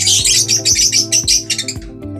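African lovebirds chirp in rapid, shrill bursts, loud and close, with a low rhythmic thumping underneath.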